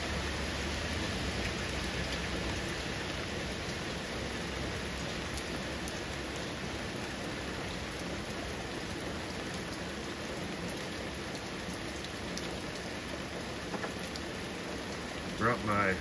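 Steady rain falling continuously, a dense even hiss of drops with no pauses, fairly soft and close throughout.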